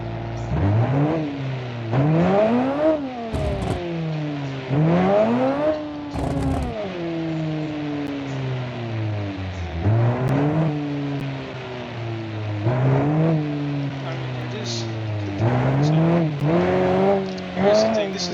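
A 5.2-liter V8 in the Karmman Elegance car in BeamNG revs over and over, each pull a loud rising howl that falls back to a deep rumble, with a person talking between and over the revs.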